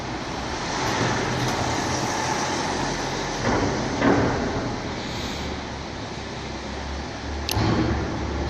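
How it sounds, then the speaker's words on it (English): A car approaches and passes along a road over steady roadway noise, with a couple of brief swells as it goes by; no one speaks. "Another car is coming here."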